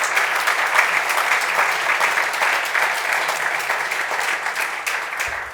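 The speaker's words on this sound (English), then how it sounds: "So if everyone could give a round of applause to the guys" A conference audience applauds speakers on stage at a retail tech event, steady dense clapping held at an even level for several seconds, loud and close with no voices over it.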